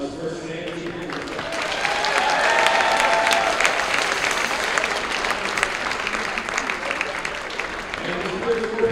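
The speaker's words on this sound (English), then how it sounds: "Please join me in a warm round of applause for Sandy Dickerson." Crowd applause fills a gym at a senior-night girls high school basketball game, honoring a player's career wins; steady, dense clapping for about nine seconds with cheers and voices mixed in.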